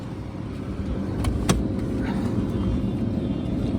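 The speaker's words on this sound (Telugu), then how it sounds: "బండి స్టార్ట్ అయింది బండి సింగిల్ సిప్లో స్టార్ట్ అయింది" A 2015 Mahindra XUV500 W6 manual diesel SUV engine starts with a sharp click, then settles into a steady, close, low diesel idle rumble.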